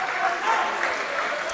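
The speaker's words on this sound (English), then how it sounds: "banging their feet, they're clapping their hands, they're waving their banners" A basketball crowd at a Cardiff Met versus Cardiff University game claps and stamps in a continuous dense roar, loud and enveloping throughout the short stretch.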